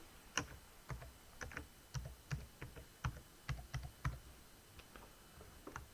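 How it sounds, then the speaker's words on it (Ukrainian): Someone types an email address and password on a laptop keyboard, producing soft, close key taps in an irregular rhythm, a dozen or so presses over a few seconds against faint background hiss. "Тут пишемо свій емейл, тобто свою пошту, придумаємо пароль."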